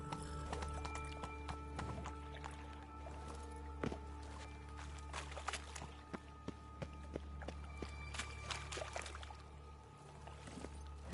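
In a video game, the horse Roach gallops, making rapid rhythmic hoof clip-clops with occasional sharper impacts over a low steady background hum.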